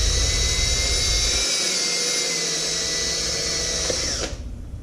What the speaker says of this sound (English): I'm just gonna be drilling the holes out in this plastic strap, make them bigger for my bolts.